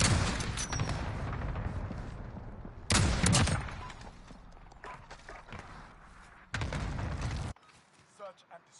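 Gunfire in Call of Duty: Modern Warfare (2019) Search and Destroy on PS5, loud bursts of shots and booming reports in several clusters with a noisy battlefield wash between them, ending abruptly into near quiet.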